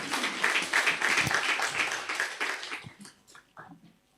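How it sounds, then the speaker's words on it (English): An audience at a medtech hackathon summit gives a round of applause for a professor. Clapping is thick and continuous for about three seconds, then thins out into a few scattered claps and fades. "A big hand clap to Professor Joseph."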